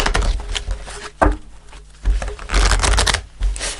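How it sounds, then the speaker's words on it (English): Thick tarot cards being shuffled in several bursts of riffling and slapping, with short pauses between, close and fairly loud. "Quite thick, these cards, so not easy to shuffle."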